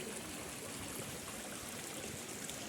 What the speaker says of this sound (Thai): นี่ครับน้ำตกครับนี่